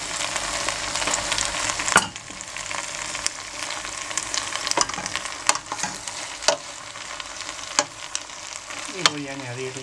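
Arroz chaufa stir-fried in a hot pan after tender green garlic goes in, a constant loud sizzle with sharp scraping and clanking stirs scattered throughout, heard up close.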